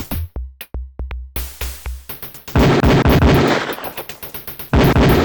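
Beretta pistol shots ring out at a firing range in the Police Quest: Open Season game: loud, sharp single reports that come in uneven bursts, first spaced apart and then in quicker succession, with brief echoing tails.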